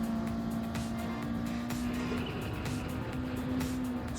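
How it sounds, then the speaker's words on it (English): A 1987 Honda Civic EF with a swapped, tuned engine in Gran Turismo, revving hard at a steady high pitch while its wheels spin, a continuous close engine whine with faint clicks and no pauses. "It's wheel spinning, every gear."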